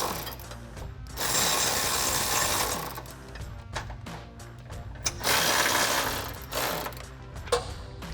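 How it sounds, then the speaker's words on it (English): A ratchet with a 16 mm socket snugging down step bar bolts on a 2021-2023 Ford Bronco, rapid clicking ratchet strokes in several close bursts separated by short pauses. "take your ratchet or electric ratchet with your 16 millimeter socket and snug them down"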